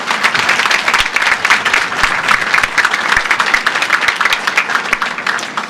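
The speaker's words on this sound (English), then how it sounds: "Let's have a round of applause for all of our NASCO shipbuilders." Sustained, loud applause from a crowd of shipbuilders at a Navy oiler christening ceremony, dense clapping throughout with no talk over it.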